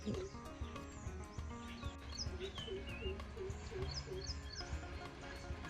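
Sparrows chirp from a tree outdoors in the early morning: faint, scattered high tweets over a busy low background hum and other bird calls, with no talking.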